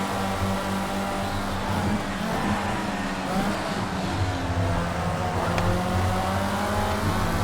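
Racing car in a racing video game, its engine humming loud and steady with harmonic drones shifting in pitch as it revs, with faint tyre noise underneath throughout.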